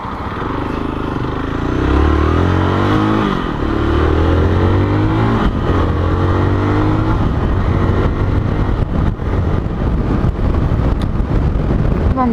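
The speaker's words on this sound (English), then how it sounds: "Long throttle, very long throttle-ish, so you can have a bit of fun without actually over-revving the bike." A Zontes ZT310X motorcycle engine on the move, revving through rising and falling throttle sweeps, loud and close with wind rush over the engine note.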